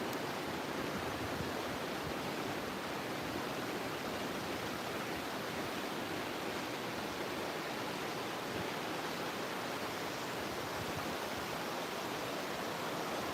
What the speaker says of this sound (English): The good old American River again.